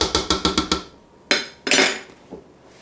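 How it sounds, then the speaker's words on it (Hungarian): Glass jars and kitchen utensils clink while being set out for jarring homemade goulash paste, five quick rhythmic chinks followed by a pause, then two louder close clatters and a softer final knock. "hozom az üvegeket, hozom a celofánt, a kis tölcséremet"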